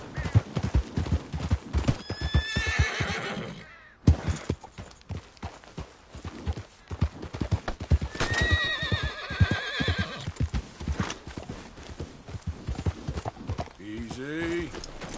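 Horse in Red Dead Redemption 2 galloping with steady, close clip-clop hoofbeats throughout, broken by several whinnies and neighs, with spoken voices mixed in.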